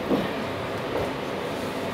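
Inside the six-car Tabessha Senzan train pulling out of Yamagata station, a low, steady rolling rumble that stays quiet throughout the short stretch.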